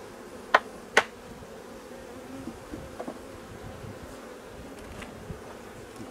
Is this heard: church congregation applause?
no